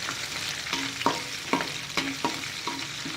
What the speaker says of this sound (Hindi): थोड़ा सा काजू, तो अच्छी तरह भूनना चाहिए